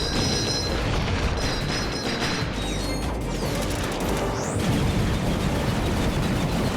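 Annihilator weapon in the Ratchet & Clank 3 video game firing into the floor, producing dense, continuous booming blasts and mechanical clatter that fill the whole stretch without a break, loud and close, with no talking.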